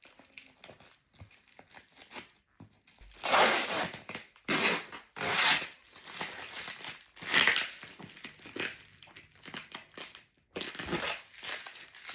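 A tightly wrapped parcel is pulled open, with bursts of loud plastic crinkling, crushing and tearing close up, separated by brief quieter handling pauses, and no talking.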